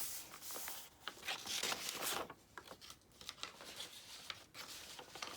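Soft snipping and rustling of scissors cutting paper while working in an old scrapbook journal, close and faint, with irregular bursts of cutting and handling noise.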